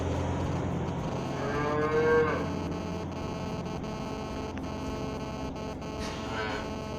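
A calf moos in a farm nursery, a single drawn-out call rising near the middle over a steady electrical hum, with a fainter second call toward the end.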